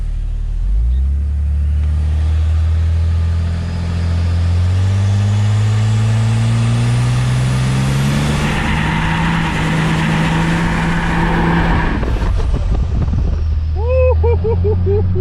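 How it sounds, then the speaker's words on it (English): First-generation Cummins diesel truck revving hard during a burnout on the back tires, a loud, continuous engine roar that climbs steadily in pitch, with a few squealing chirps near the end. "We're gonna see if we can get a new burnout anyway."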